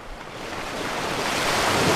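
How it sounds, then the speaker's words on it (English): Ocean wave sound effect played back in the Scratch programming tool: a steady, full-bodied wash of surf that swells gradually louder over two seconds, continuous and alone with no voices. "Perfect ocean sound."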